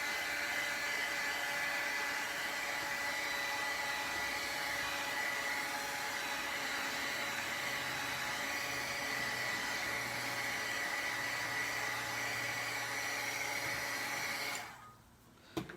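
A dryer blows a steady, even whoosh over wet paint on artwork, running continuously at moderate level for about fifteen seconds before cutting off abruptly near the end.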